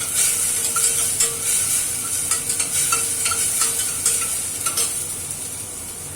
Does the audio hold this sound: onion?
yes